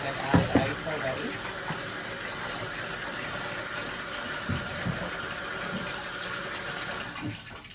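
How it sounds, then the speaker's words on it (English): Film fixer poured into a developing tank that already holds ice for black-and-white 120 Tri-X processing, a steady close liquid pour with faint sloshing and a few knocks, running continuously with no talk. "Now I'm going to pour in my fix, because I've added ice already."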